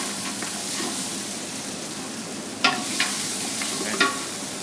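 Raw garlic fries in a pan with a steady, bright sizzle and hiss, broken by a few sharp clicks of stirring near the end.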